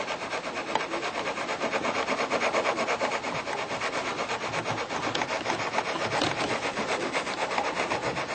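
Balsa-type wood being sanded for a model aircraft wing, a continuous close rasping rub with steady back-and-forth strokes, loud and alone with no talk.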